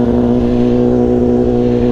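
BMW S1000RR motorcycle engine running steadily while riding through a neighborhood, a loud continuous low drone with stable engine tones and no talk.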